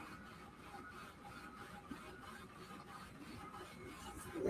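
A 3D printer runs with a low, steady mechanical whir and soft rhythmic stepping, quiet and continuous throughout.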